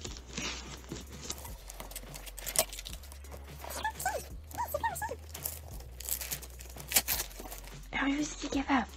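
A dog tears and crinkles open the wrapping on a small gift, with papery rustles and rips spread through the clip alongside soft panting, while someone speaks encouragement throughout.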